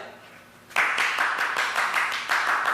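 Applause bursts out after a quiet moment in a Montréal political debate chamber, a sudden round of many hands clapping that stays steady and fairly loud to the end.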